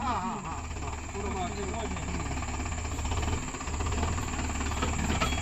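Tractors and JCB machines strain together to haul a stuck sugarcane trolley, their engines a loud, continuous, rough roar throughout, with voices shouting over the din.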